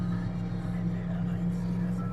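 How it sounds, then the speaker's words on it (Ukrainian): A small tractor engine runs at a steady idle close by, a continuous low droning hum at a special-equipment driving course in Germany. "Вчимося їздити на такому тракторі."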